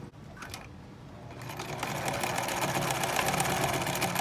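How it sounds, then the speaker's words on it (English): A sewing machine stitches along the folds of a fabric face mask, starting with a few short bursts before settling into a fast, continuous mechanical whir that grows louder and holds to the end. "The next step is just going to be to sew along each of these folds."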